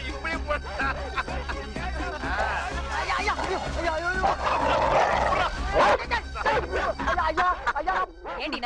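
In a scene from the Tamil film Thavasi, a dog barks and yips several times in quick bursts, mixed with people talking nearby.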